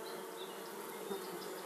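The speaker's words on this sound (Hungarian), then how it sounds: "Egy kaptárban naponta akár 1500 méh is kibújhat a sejtekből, és körülbelül ugyanennyi el is pusztulhat." A hive of honeybees hums with a steady, dense buzz of many wings, continuous and even throughout with no voices.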